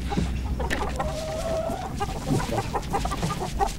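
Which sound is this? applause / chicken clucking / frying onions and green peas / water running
chicken clucking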